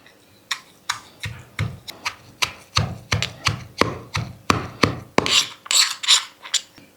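Soaked tamarind and dried chillies pounded with a stone pestle in a stone mortar for roti pachadi, giving a steady series of about fifteen sharp, close thuds with gritty scraping, alone without talk.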